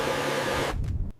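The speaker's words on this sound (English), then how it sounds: "It's a leaf blower, not a hairdryer." A leaf blower gives a loud, steady motorized blowing roar that cuts out abruptly, followed by a few rough, fluttering bursts as it winds down.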